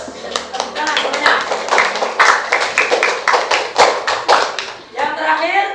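Schoolchildren in a primary school classroom clap together in a rapid, uneven burst of sharp handclaps at close range for a classmate, ending after about five seconds as a voice begins speaking.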